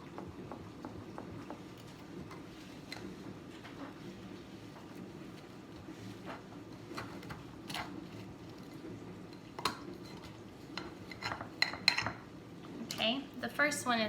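A small silicone spatula working around the edge of a pan of homemade breakfast bars, soft scraping and scattered clinks of utensils against metal, growing busier and louder toward the end, with low talk underneath.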